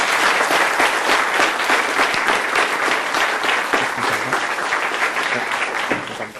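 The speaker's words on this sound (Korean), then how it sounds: "허원준 부회장님께 큰 박수 부탁드립니다." Loud, sustained audience applause following a CEO lecture for university students, steady dense clapping from a large crowd for several seconds with no talk.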